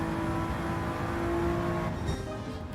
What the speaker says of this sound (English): the sound that the V6 makes rarely ignites my soul